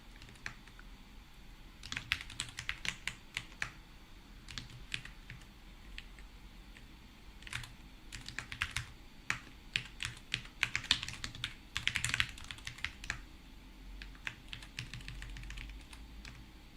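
Computer keyboard typing in bursts of quick key clicks with pauses between, close and fairly quiet, without speech.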